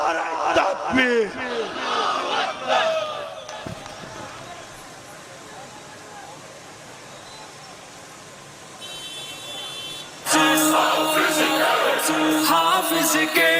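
A massed crowd at a public rally at Qurtaba Chowk in Lahore, protesting a petroleum levy, answers a Takbir call. Scattered voices and a quieter lull give way to a sudden, loud, unified shouted response near the end.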